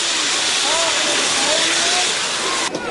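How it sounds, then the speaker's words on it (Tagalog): A fire truck's hose blasts water to wash dried mud off surfaces in flood-hit Hermosa, Bataan, making a steady, loud, broadband hiss and rush that runs nearly unbroken before cutting off abruptly near the end. "Hindi lang pangapula sa sunog ang kanilang fire truck, pati mga makakapit na putik natanggal nila ng bugahan ng tubig."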